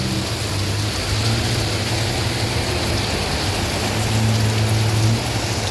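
Heavy rain pouring down steadily at a flooded Pratunam area where drainage cannot keep up, a dense continuous hiss with a low rumble of passing traffic underneath, no voices.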